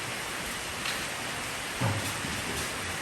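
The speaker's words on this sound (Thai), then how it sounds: "ฝนตกอีกแล้วครับวันนี้" Steady rain falling outdoors on a wet morning, a faint, even hiss of drops on surfaces with a soft low thump partway through.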